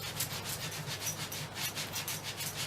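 A brush scrubs leather horse tack in quick, rhythmic back-and-forth strokes, close and steady, with no talking.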